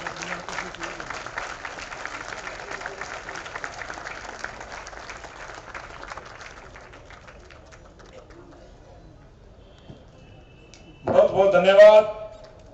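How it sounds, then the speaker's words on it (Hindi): A standing audience at a hospital cancer wing inauguration ceremony applauds with moderate, steady clapping that fades out over about eight seconds, followed by a short burst of a voice speaking. "जोरदार तालियों से अभिनंदन करेंगे।"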